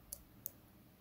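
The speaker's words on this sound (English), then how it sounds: "I heard a click." Two faint, crisp clicks from a pin of a euro cylinder lock being picked, spaced about a third of a second apart, set against a quiet hiss.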